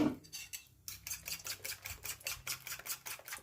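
Eggs being beaten for a Thai omelet, a fork or whisk clicking rapidly and steadily against a bowl, close and crisp, after a brief pause at the start.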